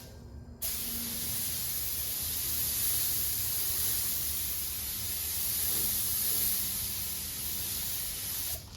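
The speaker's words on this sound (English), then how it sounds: "So I'm gonna try and spray this first and see how it goes and see if I need to thin it anymore." A paint sprayer test-sprays cabinet paint, starting abruptly after a short pause into a steady, close hissing spray that holds evenly for about eight seconds with no talking.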